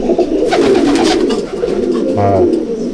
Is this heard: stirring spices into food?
no